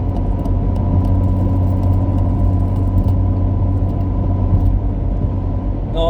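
A parked BMW car's engine idles nearby, a steady, even low rumble that continues throughout with no other sounds standing out.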